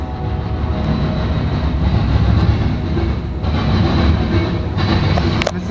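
A Norfolk Southern southbound mixed freight train passes in Marion, Ohio, a loud close steady rumble of rolling cars with rhythmic wheel clatter and squeals, swelling slightly toward the end.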